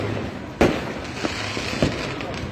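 New Year fireworks pop and bang in a quick series of sharp bursts over a constant crackling background of distant explosions.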